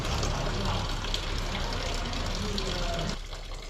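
OEM Mitsubishi transmission fluid pouring steadily into a Mitsubishi Evo IX MR, a continuous close gushing, glugging flow that tapers off at the end.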